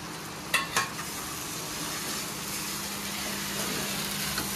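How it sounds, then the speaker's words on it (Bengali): Boiled soybean mince frying in masala, a steady close sizzle with a couple of sharp stirring clacks at the start, no voices over it. "এবার এই সয়াবিনের কিমাটা কিন্তু আমি মশলার মধ্যে দিয়ে দেবো।"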